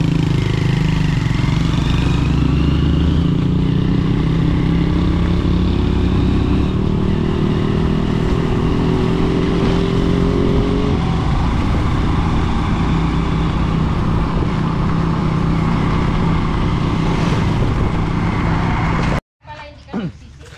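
Honda Supremo motorcycle engine running close by, loud and continuous, its pitch rising as it speeds up and then settling into a steady buzzing drone before it cuts out abruptly near the end.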